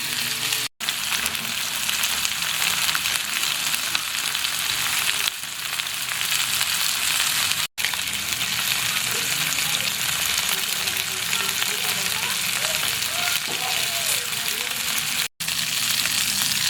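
Food frying in oil while the skin browns, a steady loud sizzle and crackle lasting the whole stretch, broken only by a few momentary cutouts, with no voices.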